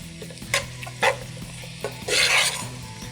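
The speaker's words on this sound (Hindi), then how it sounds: "उसके बाद हम ये मैक्रोनी इसके अंदर ऐड कर रहे हैं। इंस्टामैक मैक्रोनी, इसको हम इस तरह से मिक्स करेंगे" Instamac macaroni is stirred in a pan with sautéed capsicum and cabbage: several distinct spoon scrapes and clinks over a faint sizzle, ending in a louder burst of frying, close and without talk.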